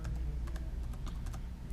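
Quick, light keystrokes tap on a computer keyboard as a username is entered, a brief irregular run of clicks close up over a low background hum.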